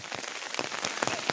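Heavy rain pours down steadily outdoors on a hillside trail, a dense loud hiss of drops striking surfaces with sharper patters throughout.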